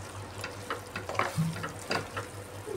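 Okra in yogurt gravy being sautéed in a pan, a quiet steady sizzle with occasional soft scrapes and stirring taps.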